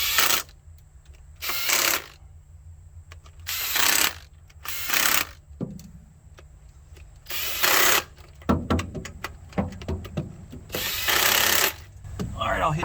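A power tool runs in short bursts to fasten gaskets on a 1967 Chevrolet C50 truck engine. Several loud, buzzing spurts alternate with quiet gaps, followed by clattering metal handling and more brief tool whirs.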